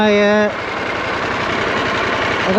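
A motorcycle engine idles steadily just after being started on a cold morning, a continuous close rumble that carries on after a brief voice at the start.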